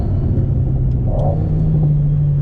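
Seen from the driver's seat, a 2019 Alpine A110 sports car rumbles along, its engine note holding steady, then rising in a brief rev near the middle before settling into a loud, even drone.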